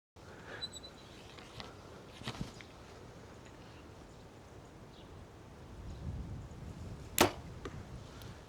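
Archery sight-in outdoors, with a few sharp arrow impacts on a target: faint thuds early, then one loud crisp strike near the end, all over a quiet breezy background with no talk.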